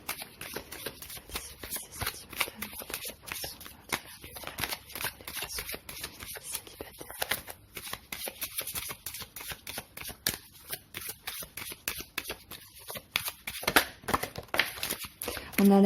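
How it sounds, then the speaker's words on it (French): Tarot cards being laid out and shuffled on a table, with steady soft papery slides, flicks and crinkles running continuously at close range, with no talk over them. "Je vais déjà poser les cartes"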